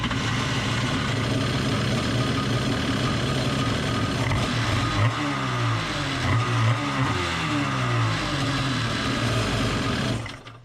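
A Kawasaki X2 jet ski engine fitted with an 1100 carburetor runs loud and steady, its revs rising and falling in a throbbing burble before cutting off abruptly at the end.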